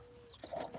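Live baby chicks give a brief, faint clucking chirp, a single short call from a small bird, close by with no one talking.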